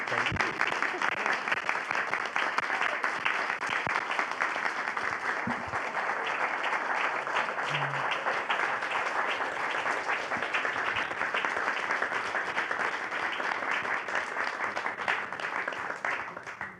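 Audience applause at a talk on psychedelic plant medicines, a sustained, even wash of many hands clapping that holds steady for about sixteen seconds before tapering off, with a few voices audible beneath it.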